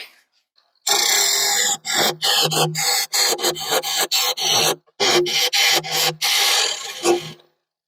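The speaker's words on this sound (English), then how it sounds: "let's see if we can take our square inch scraper and get the bulk of the material out that way" A square inch scraper cuts into a wooden bowl spinning on a lathe, giving loud, harsh continuous scraping broken by short rhythmic pauses as the tool is repositioned, close up with no talk.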